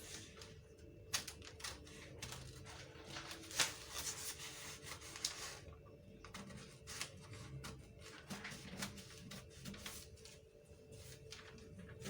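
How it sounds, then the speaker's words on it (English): Scissors cutting along a traced paper pattern for an origami bamboo bodice, giving irregular snipping and crinkling paper rustles close by, steady and fairly quiet with no talking. "So I've traced it. I'll just follow it and cut it out."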